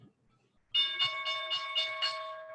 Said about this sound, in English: you're supposed to turn that stupid bell off for me